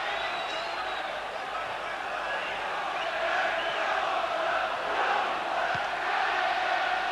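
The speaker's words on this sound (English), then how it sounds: "The crowd here at Riverside are trying to lift Middlesbrough." Football crowd at Middlesbrough's Riverside stadium during a 1996 Coca-Cola Cup semi-final against Stockport County, a continuous loud roar of chanting and cheering supporters, steady throughout with a commentator's voice over it.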